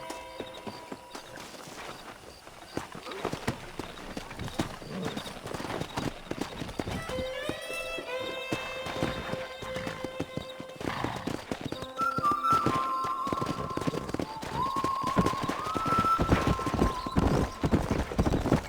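Rhythmic clip-clop of hooves from several horses in Red Dead Redemption, with a few drawn-out whinnies rising over the galloping, plus faint game music tones.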